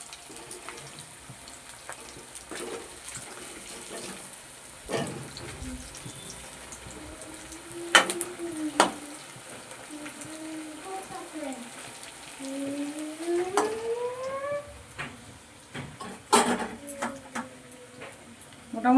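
Potato chops fry in a pan with a steady, close sizzle and hiss, scattered pops and clinks from handling, while a voice talks over it.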